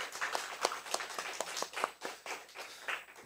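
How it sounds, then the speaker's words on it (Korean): A church congregation claps in welcome for a visiting trainee pastor, a short burst of scattered, uneven hand claps from a small gathering that stays moderately loud for a few seconds. "오늘 오셨는데 한 박수로 환영해 주시죠."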